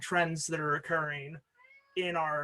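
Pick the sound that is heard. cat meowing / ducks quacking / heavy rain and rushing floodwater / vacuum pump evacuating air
cat meowing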